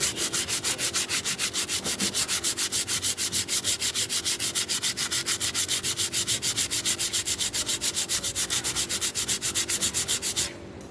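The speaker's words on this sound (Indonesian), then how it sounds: "Jadi cara saya membersihkannya di amplas, cukup pakai amplas." Brake disc being sanded flat by hand with sandpaper: quick, even back-and-forth rasping strokes that repeat steadily for about ten seconds, close and fairly quiet, with no talk.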